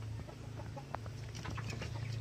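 Chickens raised for meat cluck softly under a steady droning hum inside a poultry house, a few faint calls scattered over the background noise.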